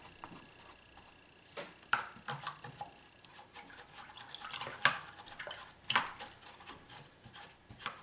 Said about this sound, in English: so I'm about ready to wash my brush